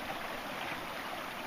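Creek water flows in a steady, soft rush that continues without a break and has no voices over it.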